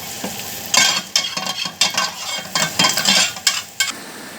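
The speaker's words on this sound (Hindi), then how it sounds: "इसी तरह आपने सारी सब्जियों को हल्का हल्का सा फ्राई कर लेना।" Mixed vegetables fry lightly in a pan for chicken steak rice, a steady sizzle broken by repeated rhythmic scraping and stirring strokes, close and fairly loud.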